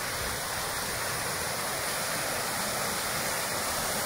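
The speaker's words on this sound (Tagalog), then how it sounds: "Ang lakas ng tubig kasi tag-ulan." Rushing stream swollen by the rainy season, a steady, loud broadband roar of churning water that continues unbroken and close by, with no talk over it.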